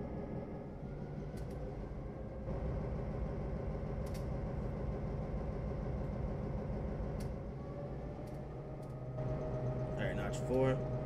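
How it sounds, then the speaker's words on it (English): A Santa Fe F7 diesel locomotive engine in Trainz Simulator 3 idles with a low, steady throbbing hum, its pitch stepping up slightly partway through, with faint clicks over it. "the idle sounds of this locomotive actually sounds pretty familiar"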